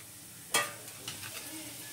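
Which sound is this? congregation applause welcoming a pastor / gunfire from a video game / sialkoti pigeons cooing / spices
spices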